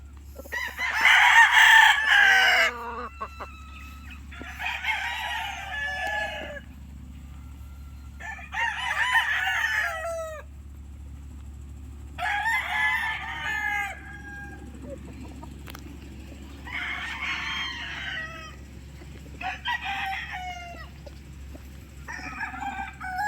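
Boston Millionaire gamecock stags crow six times in turn, each loud crow lasting a couple of seconds with quiet gaps between, over a low steady hum and faint background clucking.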